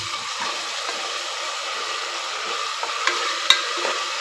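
Ginger garlic paste frying in a pan while cooking biryani, a steady hiss of sizzling oil with a few light clicks and one sharp tap of a spoon near the end, no talking.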